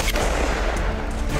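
A 12-gauge shotgun mounted on an ATV fires outdoors, a loud, dense blast filling the short moment with a rumbling, echoing boom.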